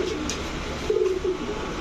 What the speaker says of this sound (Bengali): সুরমা খাকি আরও একটা মাদি কবুতর।